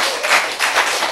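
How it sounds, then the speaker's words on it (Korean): Brief burst of audience clapping during a lecture on healing, a short run of bright claps lasting about a second. "박수."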